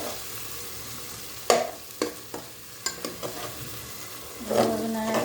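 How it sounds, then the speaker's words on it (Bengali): A spoon stirs masala with turmeric and chili powder in a frying pan, scraping and clacking in irregular strokes over a steady low sizzle, close and alone. "তারপরে মশলাটা একটু ভালোভাবে নাড়া দেব।"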